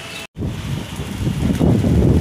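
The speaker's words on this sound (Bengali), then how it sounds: "বৃষ্টির বাতাস হইতেছে" Wind gusts and light rain on a rooftop garden, a broad rushing noise with mic buffeting, briefly cut out early and then swelling louder toward the end.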